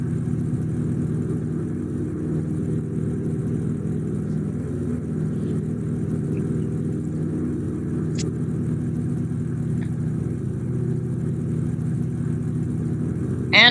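A Pagani Zonda hypercar idles in a video game, a steady, low, rumbling engine drone held evenly for many seconds, with a few faint clicks and a short sharp sound at the very end.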